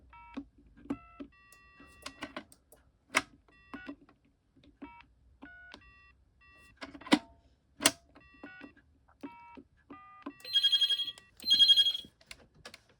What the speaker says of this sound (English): So it can receive calls. Let's make a call.